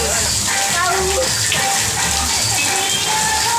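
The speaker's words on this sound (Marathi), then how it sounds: "बाहेर बघा पाऊस चालू आहे" Rain falls outside a house in the season's first downpour, a loud, steady hiss of drops on surfaces that carries on throughout, with faint voices in the background.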